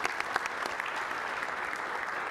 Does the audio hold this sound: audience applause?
yes